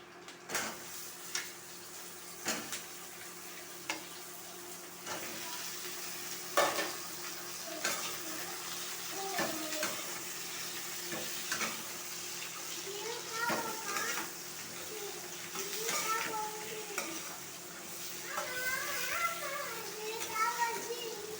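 Potatoes and slit green chillies fry in a pan for an egg and potato curry, a steady soft sizzle with intermittent stirring scrapes and clinks, while a voice talks over it at times.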